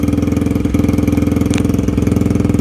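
A four-stroke dirt bike engine idles steadily with the choke on, a deep, even low thump pulsing close and loud throughout, with a brief small rattle partway through and no talking.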